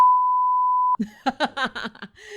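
A pure, steady censor bleep holds for about a second at full loudness, then cuts off and a person begins talking right after.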